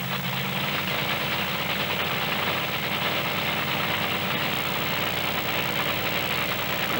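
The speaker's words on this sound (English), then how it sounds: "Great side-by-side battle. The Bandit had it off the line, but David Morris picks up the win" Monster truck engines roar side by side in a drag race at a 1996 beach event, a loud, continuous, dense engine drone that holds steady throughout with no pause.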